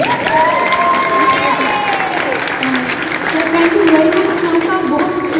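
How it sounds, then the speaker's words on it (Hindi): Audience applause at a public smog-awareness and cycling-promotion event in Lahore: steady, dense clapping mixed with crowd noise that holds for several seconds at a loud, even level. "If you can kindly बड़ी अच्छी सी तालियां बजा दें"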